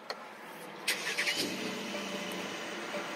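A Mercedes AMG GLC43 engine starts up inside the car: a short starter whirr, then a quick rise of revs that settles into a steady, fairly quiet idle.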